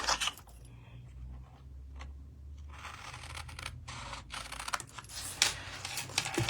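Scissors snip through card pieces for a Tic Tac treat holder in a run of close, crisp cuts and light paper rustles, quiet and fairly continuous with no talking.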